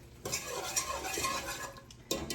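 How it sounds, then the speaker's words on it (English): A whisk scraping and clinking steadily inside a pot as a sauce for bison lasagna is stirred, a close, busy metallic rattle with a sharper knock near the end, no voices. "That's why you wanna do it kind of slow while you whisk constantly."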